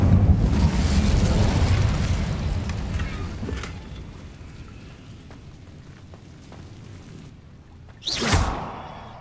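An Incendio fire spell is cast in Hogwarts Legacy with a fiery roar and crackling whoosh that fades over several seconds, then a short sharp burst near the end.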